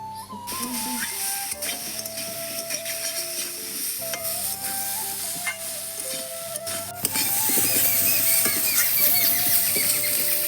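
Potatoes sautéing in a pan with salt, slit green chillies, turmeric and chilli powder give a steady sizzle with scraping stirs. A constant background hum runs underneath, and the frying grows louder and busier toward the end.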